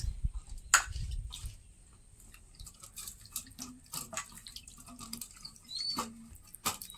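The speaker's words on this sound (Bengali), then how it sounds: "গরম জল আর লবণ দিয়ে যে ভালো করে এইভাবে ধুয়ে নিতে হবে" Lemons being washed by hand in hot salted water, with splashing, sloshing and dripping in uneven bursts, close by against a quiet background.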